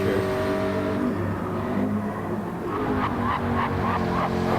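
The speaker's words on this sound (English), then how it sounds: "One of the better sounding V8 cars" A McLaren 650S GT3 V8 race car at speed during a GT race at Brands Hatch, its engine a loud, sustained harmonic roar that rises and falls through gear changes, with a brief tire squeal near the end.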